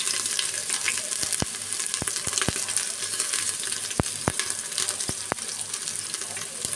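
Garlic pieces fry in a pan with a steady, soft hiss, punctuated by several sharp taps of a utensil against the pan.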